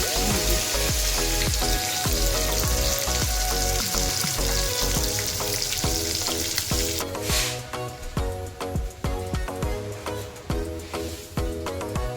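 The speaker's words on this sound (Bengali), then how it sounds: "মাছগুলো ভাজা হয়ে গেছে তুলে নিচ্ছি লাল লাল করে একটু ভেজে নেবে" Pieces of silver carp frying in hot oil produce a loud, dense sizzle that is steady at first and then turns choppier and more intermittent in the latter half.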